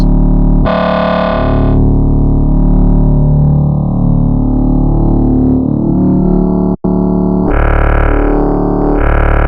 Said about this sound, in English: Now I'm gonna scrub through the wavetable, just hear all these different frequencies and sounds